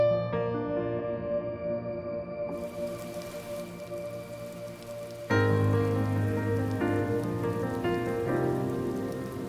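An ocean rain ambience preset from the UVI Quadra sound library plays as a steady, continuous hiss of rainfall, layered with sustained synth tones that get louder and denser midway through.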